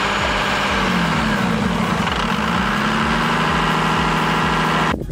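Cummins diesel truck engine with a P7100 injection pump running steadily at about 1300 RPM, a loud, continuous low rumble with rhythmic pulsing and a droning mechanical tone throughout.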